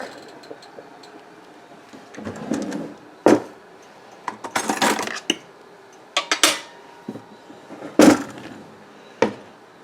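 Scattered metallic clinks and taps of a fork poking boiling potatoes in a pot, coming in irregular bursts with quiet gaps between them.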